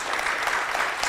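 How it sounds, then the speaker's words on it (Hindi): An audience at an inaugural session claps together, producing a dense, even patter of applause that holds steady for about a second, fairly close and unbroken by voices. "हम एक जोर से ताली बजा सकते हैं"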